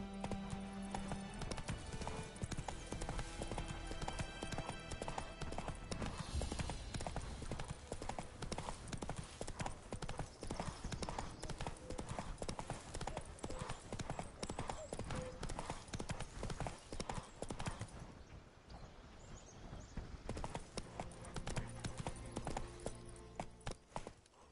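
Horse hooves galloping in The Witcher 3, the horse Roach in a fast, continuous clip-clop rhythm throughout, loud and close, with game sounds layered over it.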